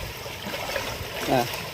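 Water runs and trickles nearby with a gentle gurgle, and a voice briefly sounds over it.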